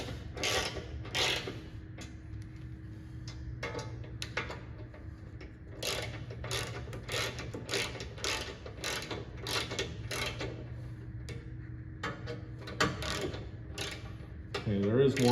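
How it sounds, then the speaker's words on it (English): Rapid ratcheting bursts from a power tool tightening the bolts of a rear bumper on a truck, repeated short whirring clicks over a steady background hum, close and moderately loud. "I'm gonna come around and do a final tighten on everything."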